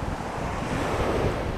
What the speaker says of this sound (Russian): Здравствуй, море Средиземное.